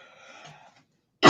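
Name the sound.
cough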